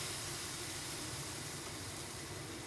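Salmon sears in a very hot pan for a sherry sriracha salmon dish, giving a steady, dense sizzle with no break and no voices.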